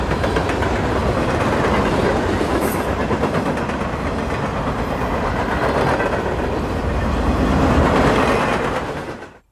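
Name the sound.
GE C40-9 locomotive leading freight train passing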